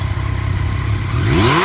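A used 2019 Yamaha XSR900 with a 950 triple-cylinder engine idles loudly nearby, then revs up with a rising, sweeping pitch toward the end.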